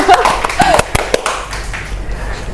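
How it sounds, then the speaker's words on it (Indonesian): A handful of sharp, scattered hand claps for a guest in an Indonesian education podcast studio ring out close and brief, mixed with some talk. "Tepuk tangan dong untuk Ibu Citra."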